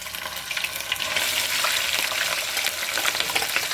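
Chopped onions fry in hot oil with mustard seeds and ginger for a fish curry, giving a loud, dense, continuous sizzle and crackle close up.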